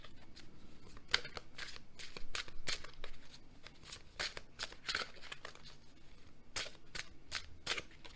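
Tarot cards are shuffled and drawn close up, giving a rapid series of crisp riffling flutters and slaps in irregular bursts, fairly quiet.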